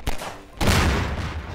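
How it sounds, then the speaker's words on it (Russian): Fireworks salute going off in Garry's Mod, a sharp burst followed by a dense, loud crackling barrage of rapid pops. "Сейчас отходим, салют, отходим."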